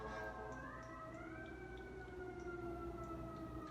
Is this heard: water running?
no